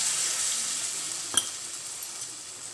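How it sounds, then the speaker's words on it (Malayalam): Hot water hits chilli pickle in a pan and sets off a steady, bright sizzle, with a single metallic clink near the middle and no talking. "അപ്പോൾ ഞാൻ ഇച്ചിരി ചൂടുവെള്ളം ഒഴിച്ചു കൊടുക്കുന്നുണ്ട് കേട്ടോ"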